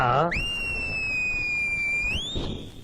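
A brief voice, then a loud, shrill whistle held for about two seconds, its pitch sliding gently down and then up at the end.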